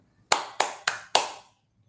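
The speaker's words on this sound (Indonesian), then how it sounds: "saya praktekkan dalam membaca ritmiknya dengan menggunakan tepuk tangan ya" Four sharp hand claps in an even beat, close and alone, beating out a quarter-note rhythm during a lesson on reading staff notation.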